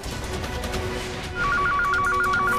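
A telephone rings in a repeating electronic trill, starting partway through over a low background hum, loud and steady.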